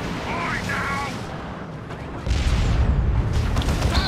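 In a Warhammer video game, gunfire shoots down a burrow tunnel, heavy booming bursts rising louder near the end beneath a talking voice.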